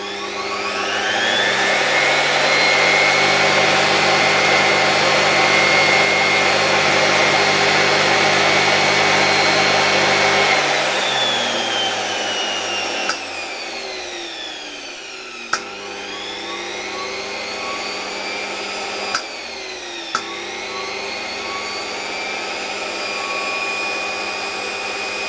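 A Hoover Constellation 867A vacuum cleaner motor runs steadily with a loud, even whine and roar for a long stretch, then slows and dips, with a few sharp clicks as it is handled.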